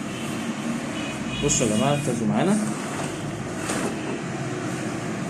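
A small sprayer motor, started by pull cord after carburetor cleaning, runs with a steady droning engine hum throughout while someone talks over it.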